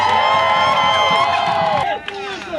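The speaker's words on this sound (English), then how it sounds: "let's just first cheer ourselves for showing up and standing in the cold" An outdoor crowd standing in the cold cheers and whoops loudly for a couple of seconds, a dense wash of voices and applause that drops off sharply near the end.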